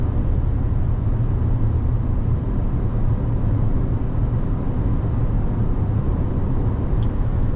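Mazda CX-90 plug-in hybrid with its non-turbo four-cylinder engine pulling uphill at around 65 mph, a steady loud droning cabin roar of engine and road noise that holds constant throughout.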